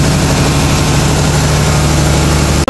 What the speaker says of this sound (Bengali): এখান থেকে প্রোপেলারকে ঘোরানো হয় ইঞ্জিনের সাহায্যে